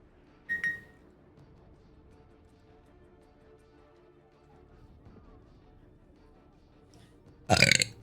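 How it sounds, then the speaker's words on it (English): A loud, abrupt burp bursts out at the very end during a Battlefield 6 gaming stream, following a short sharp sound near the start and a stretch of quiet room noise. "Oh my burp. That was loud."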